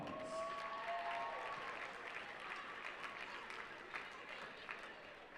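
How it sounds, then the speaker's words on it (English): A crowd in a gym at a varsity basketball game between the Broken Arrow Tigers and Bartlesville applauds, an even roar of clapping from many hands, somewhat distant and steady, with a short cheer at the start. "Big round of applause."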